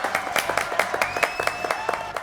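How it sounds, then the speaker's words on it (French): Audience applause in a TV studio at the close of a French talk-show segment, steady clapping with dense sharp hand claps throughout and a faint tonal hum underneath. "Applaudissements, s'il vous plaît."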